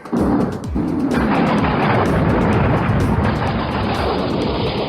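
Thunderstorm sound effect: a loud, continuous rolling rumble of thunder with heavy noise throughout, swelling after an opening crack and holding steady without any voices.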